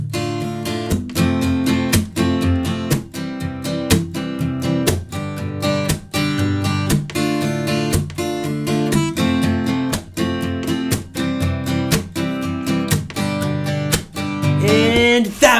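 Acoustic guitar strumming the chord progression of a song, close and steady with a repeating rhythmic pattern, ending in a brief slide.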